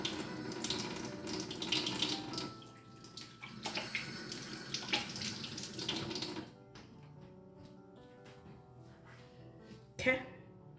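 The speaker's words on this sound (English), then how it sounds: "Wash my hands." Hands being washed under a running kitchen tap, with a loud rush of water and splashing that cuts off partway through, leaving quieter dripping, handling noises and a brief final clatter.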